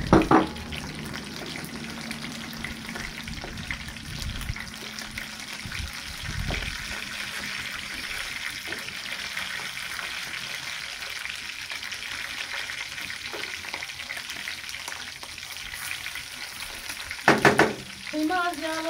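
Fatty minced meat sizzling in a pan over tomato paste, with a steady, close frying hiss, occasional stirring scrapes, and a clatter of utensils near the end.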